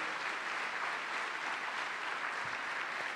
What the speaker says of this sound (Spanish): Vamos, dale fuerte ese aplauso al Cristo de la gloria.